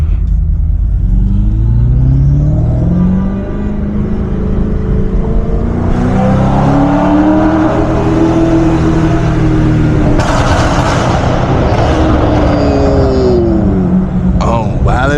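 A 640HP BMW M550i accelerates hard at night, its loud engine and exhaust rising through the gears in long sweeping pulls with brief shift breaks, heard from inside the car, with no talking.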